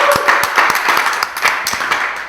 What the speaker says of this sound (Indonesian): Tepuk tangan dulu buat Mas Eteng.